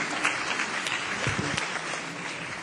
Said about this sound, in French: Je vous demande à tous d'applaudir Monsieur Dolium.